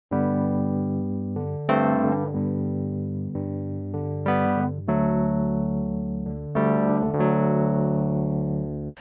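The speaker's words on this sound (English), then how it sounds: "it's really just a noisy sort of electric piano sound." Wurlitzer A200 electric piano sampled in the Scarbee A200 Kontakt library, playing sustained chords and melody notes with a slightly noisy, warm tone, heard alone and close.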